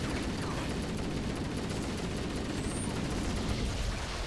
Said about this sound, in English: a chain explosion got me